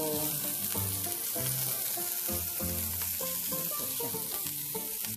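Burger steak patties fry steadily in a hot pan, a dense, continuous sizzle with crackling spatters. Music-like tonal layers sit underneath, and no one speaks.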